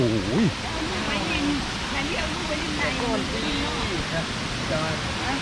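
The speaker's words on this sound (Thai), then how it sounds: "ขาวพูน เป็นฟอกฟองเลยนะ น้ำตก" Sarika Waterfall in Nakhon Nayok, Thailand, roars steadily with a dense, close wash of falling water that continues unbroken while someone talks over it.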